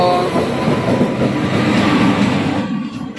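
A train with AC coaches, running from Howrah to Bengaluru and hauled by a WAP-7 electric locomotive, passes close by with a loud, steady rumble and rolling wheel noise that thins out at the end.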